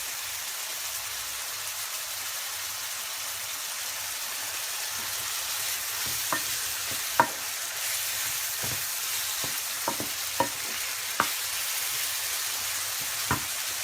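Minced meat for tantuni frying in a pan after a little water is added, a soft steady hiss with occasional light pops and spatters, fairly quiet and without talk.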